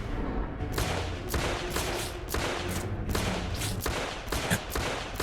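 Rapid bursts of gunfire from the player's weapon in a cinematic video game, repeated volleys crackling loudly and close over a dense soundtrack, with no voices.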